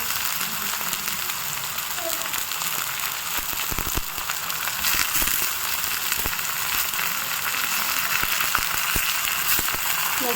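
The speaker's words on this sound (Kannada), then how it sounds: "ಚೆನ್ನಾಗಿ ಫ್ರೈ ಆಗಲಿ ಸ್ವಲ್ಪ ಆಯಿಲಲ್ಲಿ" Dill leaves and green gram fry in oil in a pan with a steady, close sizzle and faint crackles, occasional stirring scrapes underneath.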